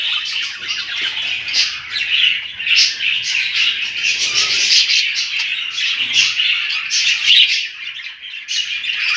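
Budgerigars in home breeding cages chirp and squawk continuously, a dense, bright chatter of many birds close by, with no voices heard.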